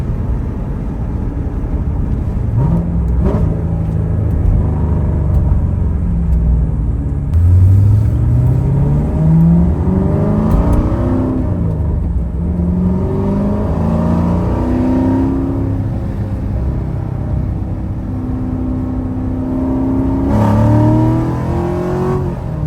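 A Corvette fitted with long-tube headers, an X-pipe and active exhaust valves open revs repeatedly, loud and close, its deep rumble rising and falling in pitch through several sweeping throttle blips with no voices.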